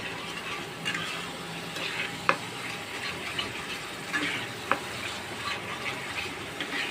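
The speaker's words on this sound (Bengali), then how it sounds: "এর জন্য মশলাটাকে আমি ভালোভাবে কষিয়ে নেব।" Spice paste for a pangas fish curry fries steadily in a pan, a soft continuous sizzle with a few sharp clinks of stirring at about two and five seconds, fairly quiet and free of talk.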